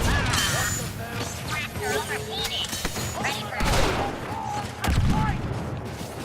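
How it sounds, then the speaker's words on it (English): Grenade thrown during a Star Wars Battlefront II match, amid busy game audio of gunfire bursts, clanks and sharp impact thuds, with brief voices in the mix. "Grenade out."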